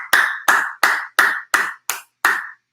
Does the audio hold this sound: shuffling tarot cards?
no